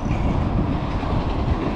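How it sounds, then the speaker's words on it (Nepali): A train rumbles past close by, a steady dense low roar with faint metallic rattle and no clear breaks, running continuously through the short stretch without voices. "आयो है ट्रेन,"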